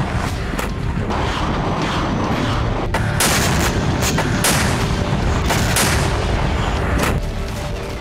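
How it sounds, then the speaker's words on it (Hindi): Bombs and artillery shells exploding in wartime Ukraine: a rapid series of loud, sharp blasts and booms, some close and heavy, others overlapping in a continuous barrage with no speech. "इतना बम गोला बारूद बरसा"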